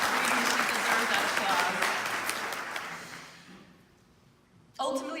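An audience at a law school award ceremony applauds warmly with loud sustained clapping that gradually fades to near silence, then a voice starts speaking at the end.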